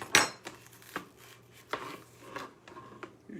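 Several sharp chops of a knife through a pepper onto a cutting board in a home kitchen, a few irregular close knocks with light scraping between them.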